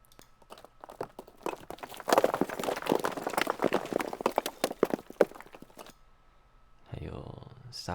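Rocks in the video game Carto tumble and clatter in a dense run of crunchy, clicking impacts, swelling to a loud middle before thinning out and stopping abruptly.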